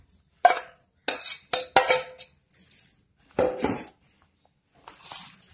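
Ground chana dal paste being mixed in a bowl, giving a run of short scraping, clinking and squishy bursts close by, irregular and separated by brief pauses, with no talking.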